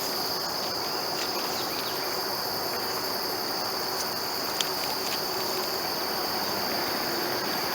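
Grasshoppers chirp in a natural habitat, a steady high-pitched insect drone with faint repeated clicks, continuous and unchanging over a quiet outdoor background.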